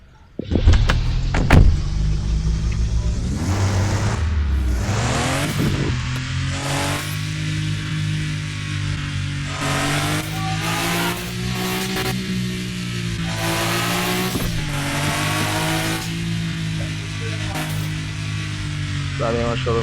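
A car is driven away from a showroom, its engine revving loudly and close by with a steady low drone throughout, broken by several sharp bursts and rises in pitch.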